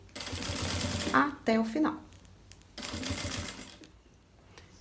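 A sewing machine stitching through a plastic travel organiser for shampoo and creams, fast mechanical chatter in bursts that start and stop, close up, with someone talking briefly between runs.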